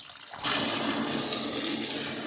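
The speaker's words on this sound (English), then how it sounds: "we'll add a little water." Water gushes steadily into a twin tub washing machine, starting abruptly after a brief quiet moment and continuing as a loud, even hiss and splash.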